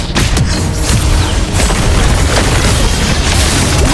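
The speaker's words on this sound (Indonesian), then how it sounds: "Our turret has been destroyed" Dense, continuous booming explosions and bursts from a Mobile Legends match as a turret is destroyed, loud and sustained with no pause, thick low rumble layered under sharp crackling pops.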